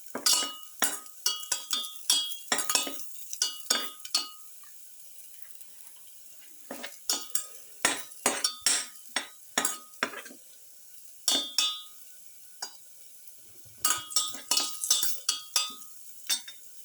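A spoon scrapes and clinks against a pot while lamb and cauliflower stew is stirred, coming in close, sharp bursts of rapid strokes with short quiet pauses between rounds.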